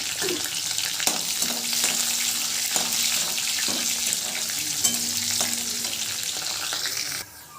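Mustard, cumin and fennel seeds sizzle and crackle steadily in hot frying oil for egg kuzhambu. The sizzle holds close and loud, with faint stirring taps, then cuts off at the end.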